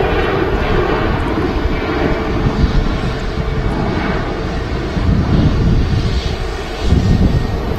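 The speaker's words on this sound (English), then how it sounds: "Sun's out on the Aer Lingus A321neo." An Aer Lingus Airbus A321neo jet airliner at Manchester Airport, a loud continuous roar of jet engines holding steady throughout with slight wind buffeting on the microphone.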